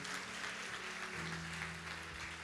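A church congregation claps for the Lord at a celebration service, a steady wash of applause at fairly low level beneath a faint low hum.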